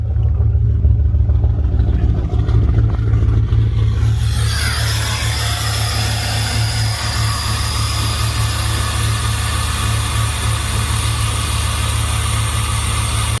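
A Ford 6.0 Powerstroke diesel that has sat unused cranks and fires, then settles into a loud, rough, steady idle with a rattling diesel clatter that fills the whole stretch.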